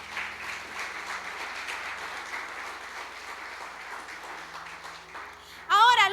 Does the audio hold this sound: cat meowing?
no